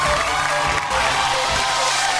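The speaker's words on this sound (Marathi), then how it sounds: "एकदा जोरदार टाळ्या." A stage audience at a Marathi television show breaks into loud, dense applause, the clapping steady and close throughout with a faint murmur of crowd noise mixed in.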